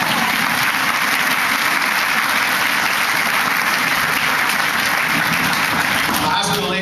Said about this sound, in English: you can clap for teachers